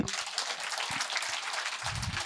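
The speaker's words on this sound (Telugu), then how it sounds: "గట్టిగా క్లాప్స్ కొట్టండి." A crowd at a Patriji Dhyana Maha Yagam meditation gathering claps loudly and continuously, a dense, close wash of applause that stops abruptly at the very end.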